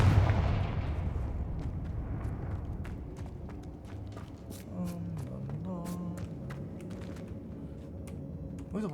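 Confringo fire spell explosions in Hogwarts Legacy, heard as a dense rumbling series of blasts and impacts with sharp repeated bursts, loud and continuous across the whole stretch, with a tonal game effect rising midway.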